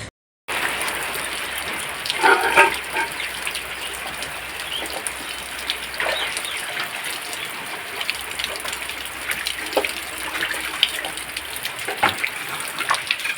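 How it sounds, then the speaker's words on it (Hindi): Light drizzle falls steadily outdoors, a soft continuous hiss broken by scattered louder drips and splashes on surfaces, with no one talking. "सुबह से ही पानी यहाँ पर रिमझिम चालू है।"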